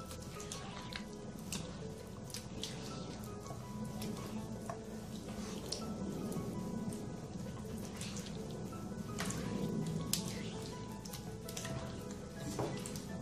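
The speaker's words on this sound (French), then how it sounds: "On ajoute encore de l'eau pour obtenir une pâte très liquide" Water is worked into a batter dough by hand until it turns very thin, making a faint, steady wet patter and drip of liquid that runs for several seconds without any talking.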